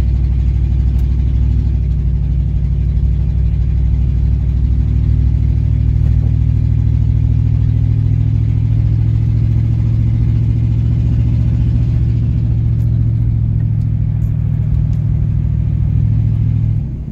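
A loud, steady engine drones from inside a moving old Oldsmobile with a new transmission shifting gears, its low rumble holding constant with little change in pitch throughout.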